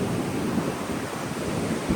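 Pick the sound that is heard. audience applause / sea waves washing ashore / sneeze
sea waves washing ashore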